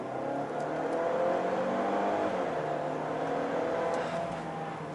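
A Range Rover Evoque R Dynamic accelerates at full throttle, its engine a steady loud drone heard from inside the cabin with continuous road and wind noise.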